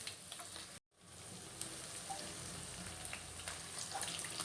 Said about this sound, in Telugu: దీనిలో సన్నగా తరిగి పెట్టుకున్న ఆనియన్స్ తీసుకోవాలి రెండు పచ్చిమిర్చి తీసుకున్నాను వీటిని డీప్ ఫ్రై చేసుకోవాలి